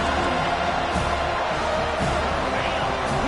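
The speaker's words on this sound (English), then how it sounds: "Listen to the crowd energy here in the early going." Stadium crowd roaring steadily at a college football game between FSU and NC State, a loud continuous wash of cheering voices with scattered whoops, filling the whole stretch without a clear pause.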